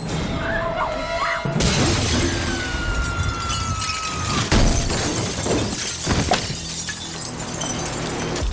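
Glass window shattering as a figure crashes through it and falls from a tall building in a dramatic scene, a sudden loud crash with scattering debris over a dense, busy background mix.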